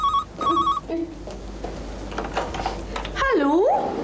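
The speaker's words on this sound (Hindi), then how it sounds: "फोन." A telephone rings in a Hindi TV drama scene, with two short electronic ring bursts at the start and a warbling tone near the end, while people talk in between.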